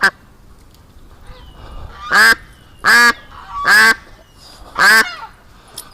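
An agitated duck lets out four loud, raspy honks spaced about a second apart, close and clear against a quiet outdoor background while it fights.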